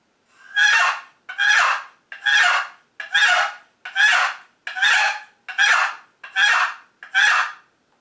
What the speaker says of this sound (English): Now this is a call, as I say, made by the late Ben Lee.